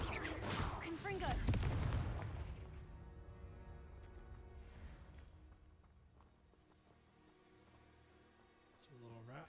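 A Confringo blast spell exploding in Hogwarts Legacy, one big booming burst at the start that rumbles and fades slowly over several seconds, with a brief rustle near the end.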